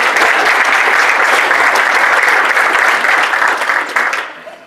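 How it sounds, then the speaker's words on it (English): A large audience at a corporate event applauds a returning participant, a dense, loud wash of many hands clapping that holds steady, then fades out at the end. "Give Jennifer a big round of applause as she goes back to the seat"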